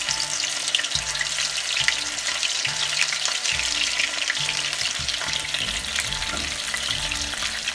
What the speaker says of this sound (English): I'm going to be frying these florets of cauliflower